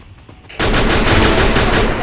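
Gunfire in the Free Fire video game: a faint lead-in, then a sustained loud rapid burst of automatic shots rattling in even repetition for over a second, with no talking.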